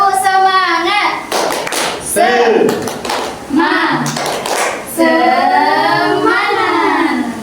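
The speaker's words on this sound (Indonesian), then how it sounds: "Tepuk semangat." Students in a classroom clap a rhythmic spirit clap, quick bursts of hand claps interleaved with chanted voices, loud and close, repeating in short patterned groups.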